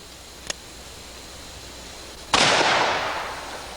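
A single sharp shot fired with a 240-grain target load from a Dillon Precision machine gun, preceded by a small click and followed by a loud burst that decays over about a second and a half, outdoors with no talking.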